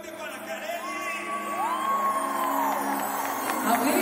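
A concert crowd in an arena cheers and shouts for a big-band jazz performance, with whoops and yells rising over a dense, sustained roar of applause and voices.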